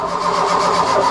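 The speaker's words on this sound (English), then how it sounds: "That's the starter motor, I believe." The starter motor of a barn-find Ford Fiesta Mk1 Ghia 1.1 cranks steadily and loudly, a continuous whirring churn heard up close with no talk over it.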